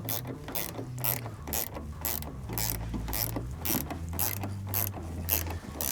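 A ratchet wrench tightens 13 mm nuts while installing a Sherpa Fuji roof rack on an FJ Cruiser, giving a steady run of close, loud clicking strokes in a regular rhythm with no talking.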